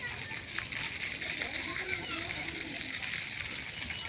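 A water spinner sprays and splashes steadily in a park at a fair in Newtown, forming a continuous watery hiss with children's voices mixed in.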